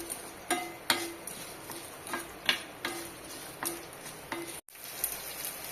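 Ten small onions and garlic being sautéed in a pan for coriander thuvaiyal, with a steady oil sizzle broken by repeated sharp spoon scrapes and taps against the pan in an irregular rhythm.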